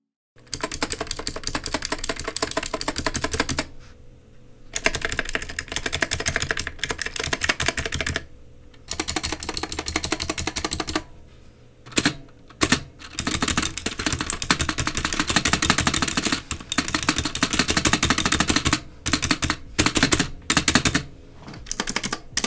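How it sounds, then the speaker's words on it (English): A budget Magegee MK Star mechanical keyboard with loud clicky switches and somewhat rattly stock keys, typed on steadily and close up, a dense run of sharp clacks broken by a few short pauses. "They are fairly rattly stock, but much of this rattle does go unnoticed due to the loud clicks in the switches."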